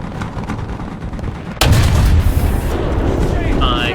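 A Leclerc tank cannon fires in a video game battle: a single deep, loud boom erupts partway through and rolls into a long rumbling tail, preceded by low engine and battlefield noise.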